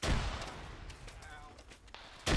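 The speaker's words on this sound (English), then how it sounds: "Mortar rounds went too far. We're dropping them down further" Mortar rounds explode in the ArmA military game during a ShackTac session: one heavy, rumbling blast at the start and another at the end, with low battlefield noise between them.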